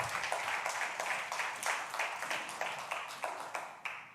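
A church congregation clapping together in a roughly steady rhythmic beat, many hands at once, a moderately loud indoor crowd sound with no talking over it.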